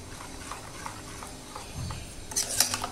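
Dhokla batter for a fasting recipe, just mixed with soda, stirred in a bowl with a spoon, giving soft, irregular scraping and clinking that grows brisker and louder near the end, with no talk.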